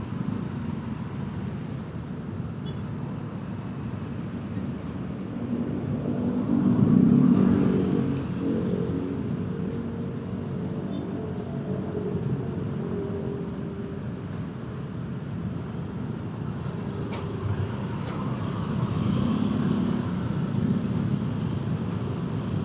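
Heavy stop-and-go traffic on a congested Jakarta city street, heard from a motorcycle: a steady, loud low rumble of engines that swells briefly, with no talking.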